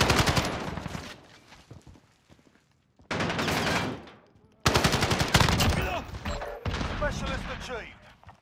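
Bursts of rapid automatic fire from an AUG SMG in Call of Duty: Modern Warfare come in three loud volleys separated by short pauses. Players talk over the gunfire and game effects.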